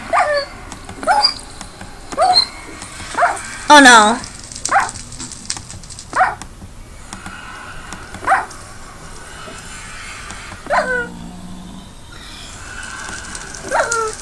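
Minecraft game dog sounds: several short barks and whimpers scattered across the stretch, mixed with game noises while children talk and exclaim throughout.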